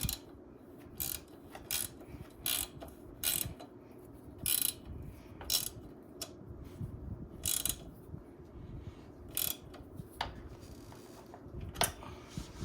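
Hand ratchet tightening the rear passenger footpeg on a Kawasaki KE175 motorcycle: sharp, clicking strokes in irregular bursts over a low background, close and moderately quiet, with no talk.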